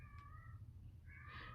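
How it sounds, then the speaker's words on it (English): A cat screams and yowls outside a window, two drawn-out wailing cries separated by a brief pause, heard alone over a low steady background hum. "That cat has been screaming out my motherfucking window for the past fucking week"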